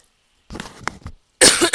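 A person coughs a few times close up, a short rough burst followed by a louder, harsher cough after a brief pause.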